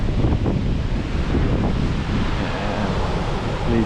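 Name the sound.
cascading waterfall in Yosemite high country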